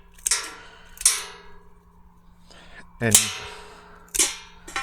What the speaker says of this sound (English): what you're hearing is the sticks hitting the compost bucket